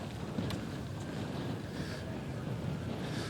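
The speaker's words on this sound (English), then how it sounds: "the wind was just kicking up like it's been all night" Strong, gusting wind during Hurricane Irma buffets the microphone, a continuous close roar of broadband rushing noise with no pauses and no voices.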